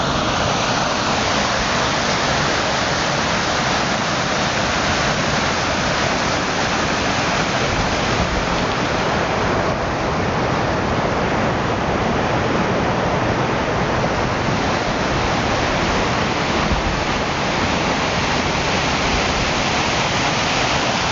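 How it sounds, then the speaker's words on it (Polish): Glacier meltwater rushing into a lake in Norway, a continuous broadband roar of flowing water, steady and close, with no talk over it. "I tutaj ta woda z lodowca wypływa do tego tego jeziora o niesamowitym kolorze."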